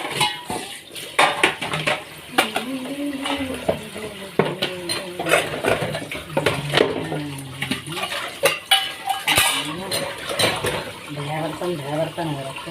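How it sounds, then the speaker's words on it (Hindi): Dishes, pots and utensils are washed under running water, with frequent close clinks, clatters and scrapes of metal and crockery, and a voice talking now and then between them. "चलिए जी निपटा दें अब अपने जल्दी फटाफट बर्तन"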